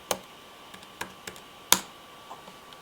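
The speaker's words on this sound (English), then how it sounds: "So I'm just going to type it in really quick." A password is typed on a computer keyboard: a handful of sparse, separate key clicks, quiet and close, with one sharper tap near the end and no speech.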